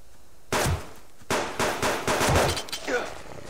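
Rapid gunfire in the survival video game Subsistence, several sharp close bursts and single shots in quick succession, with a voice talking faintly beneath.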